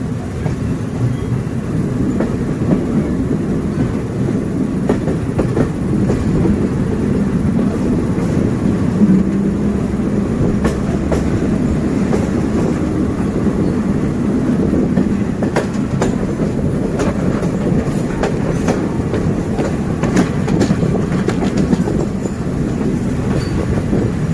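Thai special express train No. 31 passes at Pak Tho station, a loud continuous rumble of rolling wheels with rhythmic clickety-clack over rail joints and faint high squeals, steady throughout.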